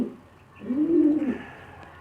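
Hubal pigeons cooing, one soft rounded coo swelling in the middle of the clip over a quiet background, close and moderately loud.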